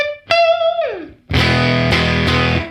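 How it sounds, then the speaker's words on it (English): An electric guitar runs through a Universal Audio UAFX amp simulator pedal with overdrive and room reverb. A sliding single note comes first, then loud, sustained distorted chords ring out with reverb tails, and there is no talking. "this is some of the best overdrive saturation that I've heard in a long time"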